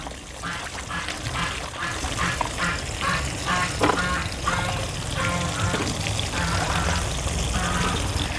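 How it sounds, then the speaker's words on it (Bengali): Raw green bananas are rubbed and rinsed in a basin of clean water in a village kitchen, giving continuous close splashing, sloshing and dribbling with no talk. "আর একবার আমি পরিষ্কার জলে ধুয়ে নেব ভালো করে কচলিয়ে আমি কলাগুলো ধুয়ে নেবো"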